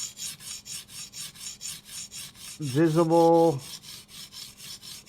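A knife is sharpened with steady, evenly spaced rasping strokes all in one direction to roll the burr over, close and fairly loud, with a short spoken word partway through.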